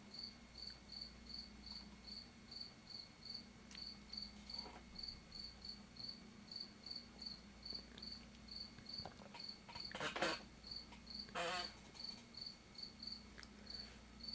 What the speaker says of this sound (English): Again, sorry about the cricket.